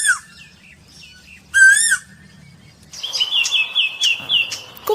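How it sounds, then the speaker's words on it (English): A small songbird such as a cuckoo or thrush sings in short whistled phrases, with a high tonal burst early on and then a steady run of bright repeated chirps and notes over the last two seconds, fairly close and clear. "Let's hear the sound of the bird."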